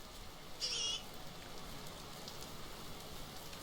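Steady rain falls in the video game Vintage Story, a constant soft patter spread evenly across the whole stretch, with a brief faint higher-pitched cry near the start.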